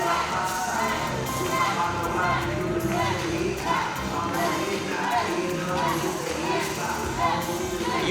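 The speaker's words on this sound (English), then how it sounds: "You hear this crowd reaction for Exodus Prime." An arena crowd roaring and cheering for an esports player or competitor named Exodus Prime: a dense, continuous wash of many voices that stays loud and steady throughout, with shouts rising out of the din.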